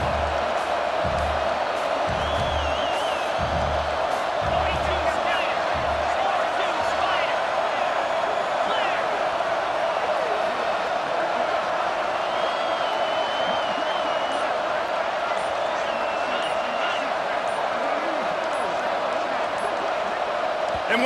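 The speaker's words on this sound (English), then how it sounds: "with this place rocking, the crowd forces a false start" A stadium crowd roars in the video game EA Sports College Football 26, a dense, sustained, loud wall of cheering noise with low thumping beats early on, steady throughout.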